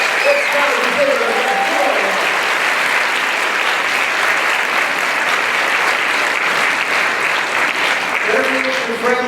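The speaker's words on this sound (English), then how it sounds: "if we could just give a big round of applause for our family and friends that are here" A graduation audience of family and friends fills the hall with a sustained round of applause, dense and steady throughout, with some voices briefly heard at the start and end.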